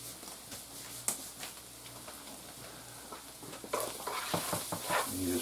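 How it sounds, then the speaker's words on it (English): Beef stroganoff stirred in a sizzling pan: steady frying crackle with scraping, clattering stirring strokes that grow busier and louder toward the end. "You just stir it all up together so you don't get no flour on your meat."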